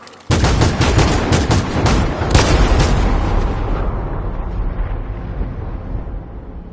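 Rapid volley of gunfire from a firing squad in Detroit: Become Human, loud dense shots for about three seconds, then echoing away into a fading rumble.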